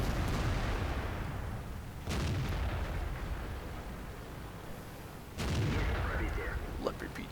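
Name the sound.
tank cannon fire in a tank video game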